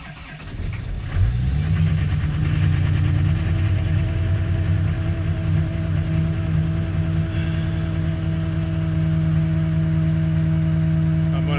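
A cold diesel truck engine, running in 3 °F weather, cranks briefly and catches, then settles into a loud, steady low-pitched idle that drones on unchanged for the rest of the stretch.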